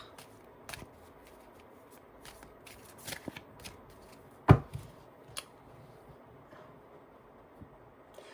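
Tarot cards shuffled by hand in a quiet room: soft, papery riffling and sliding runs with scattered faint taps, and one sharper, louder slap of the deck about midway, no voices.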